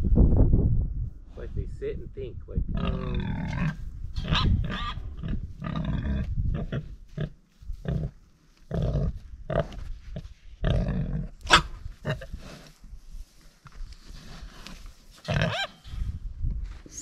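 Grunts and snorts from a sow in heat close by on a farm at night, mixed with people talking throughout, with a few louder squeals standing out.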